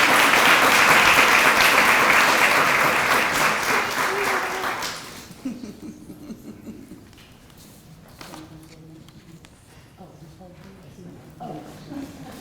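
Loud, full applause from an audience at an induction ceremony fills the first few seconds, then fades out to a quieter room with scattered claps, shuffling and a voice speaking.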